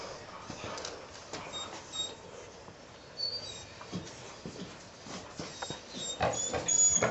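Dogs in a crowded indoor animal shelter, over its usual limit, make scattered faint barks and yelps over a steady hissy room background.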